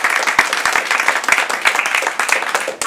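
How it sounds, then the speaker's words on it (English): A crowd at a screening and discussion event breaks into lively applause, with individual claps standing out distinctly over a busy, fairly close round of clapping. "let's give her a round of applause anyway"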